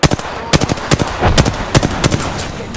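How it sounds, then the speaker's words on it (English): Rapid bursts of automatic gunfire in the shooter game Apex Legends, loud and close, with repeated sharp cracks in quick rhythmic volleys over nearly three seconds. "Listen up, I'm getting shot at."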